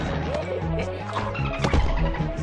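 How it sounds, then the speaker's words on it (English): A potato mine blows up in Plants vs Zombies: Garden Warfare, one sharp, heavy burst partway through, sitting over a busy bed of game music and effects. "Stepped on another potato mine."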